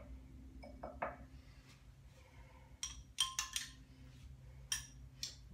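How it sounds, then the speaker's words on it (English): Teaspoon clinking against a glass while stirring bone broth, a few scattered light chinks and taps, close and quiet, no voices. "Grab a teaspoon and give this a little stir."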